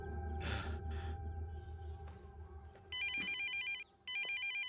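A telephone rings in a home, bursts of electronic trilling starting about three seconds in after a quieter stretch, pausing briefly and then resuming, loud and close.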